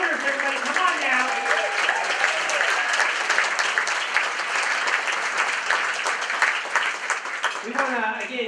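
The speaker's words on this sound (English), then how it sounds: "Let's give a round of applause to all of our donors, everybody." A crowd at a children's charity event applauds donors with sustained, loud, dense clapping, a voice speaking over it near the end.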